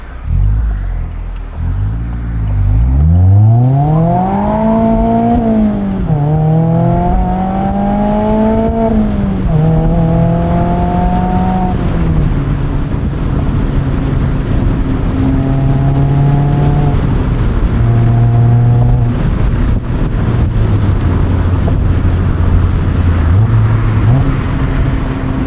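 A sports car engine, a Mazda MX-5 Miata ND3 or a Honda S2000 AP1, revs hard through rising pitch sweeps and gear changes, then settles to steadier cruising drones, loud and close with no talk.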